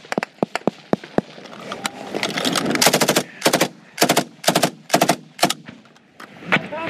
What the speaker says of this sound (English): the Taliban shoot at them from a new location